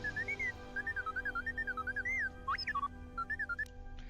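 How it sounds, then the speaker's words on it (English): Droid whistles and beeps in a Star Wars video game: a chirpy run of warbling, pitch-bending whistles, then a few quick sweeping beeps, close and clear over a faint steady hum. "There's a series of low-pitched whistles and beeps."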